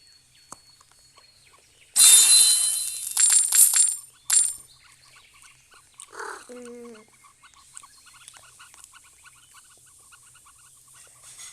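A duck in a Roblox game gives a short, nasal quack midway, preceded by a burst of loud clattering game noise, then faint, scattered game sounds follow.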